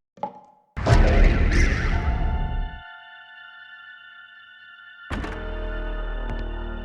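A door opens in the survival horror game Galerians with a short click, then a heavy thunk and rattling swing. A lingering tonal hum follows before another burst of game sound.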